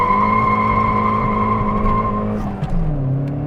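Toyota Yaris T-Sport Turbo accelerating hard from a standing start, a loud engine note climbing steadily in pitch, then a brief dip at the gear change before it pulls on again.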